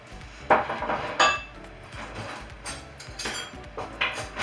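Vegetables stirred with chermoula in a bowl for a Moroccan fish dish, with irregular clinks and knocks of a utensil against the bowl and soft wet mixing sounds, fairly close, no talking.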